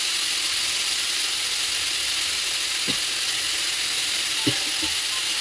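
Spice paste for a rui fish curry with ridge gourd and potatoes fries in a hot pan with a loud, steady sizzle. A couple of brief scraping knocks from stirring cut through, and no one speaks.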